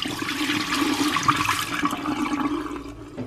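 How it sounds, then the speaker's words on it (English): Dirty mop water poured out of a mop bucket during spring cleaning, a steady continuous gush and splash of liquid lasting the whole stretch, fairly loud and close with no talking. "I have to show you the water when I pour it."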